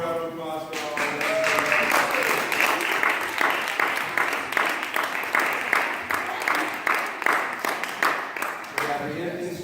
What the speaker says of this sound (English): have a warm round of applause for all of